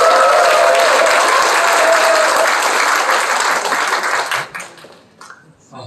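Loud, sustained applause from a crowd at a labour committee launch ceremony in Cheongju, holding steady for several seconds before thinning and fading out.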